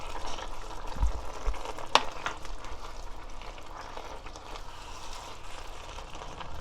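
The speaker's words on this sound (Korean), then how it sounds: "자글자글 끓이면 돼" Korean bracken fern side dish simmering and sizzling in a pan: steady bubbling crackle close by, with a sharp click partway through.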